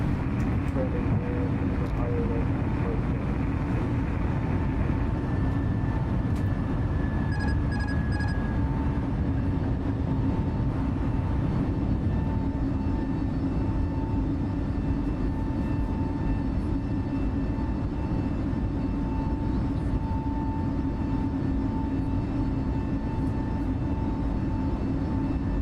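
Airbus A320neo climbing after takeoff in Microsoft Flight Simulator 2020, a loud steady engine roar with a sustained whine and faint tonal hum, constant throughout the climb, no speech.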